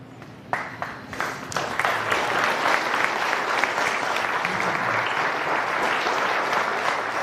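A television talk show studio audience breaks into applause, a few hesitant claps at first, then swelling into steady, dense clapping that fills the room and holds.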